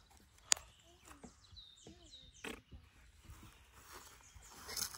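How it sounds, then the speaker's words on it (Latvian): Birds sing outdoors at a rural property in a few faint, scattered chirps and short whistled calls over soft background rustling and low ambient noise. "Putnu skaņa."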